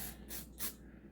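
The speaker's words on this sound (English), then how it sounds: "Spray a little more on this sucker." Two short, sharp hissing bursts of cleaner sprayed onto a Rock Island VR80 shotgun, a moment apart, close to the microphone, over a low steady hum.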